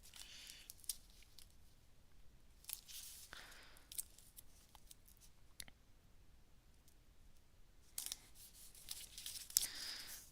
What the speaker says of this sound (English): cut a piece of that score tape